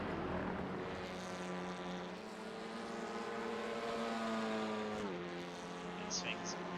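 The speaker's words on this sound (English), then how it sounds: "You hear that rev limit of Bradbury," A Honda Civic Type R TCR race car in the iRacing game at Donington Park holds its engine on the rev limiter. It gives a loud, continuous, buzzing drone with a slight pitch dip midway, with commentary running underneath.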